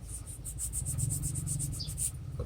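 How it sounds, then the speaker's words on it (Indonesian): Fine sandpaper rasps against a bonsai knife blade while sharpening it, in quick, even back-and-forth strokes, close up and steady throughout. "ini dapat kita lakukan dengan amplas halus"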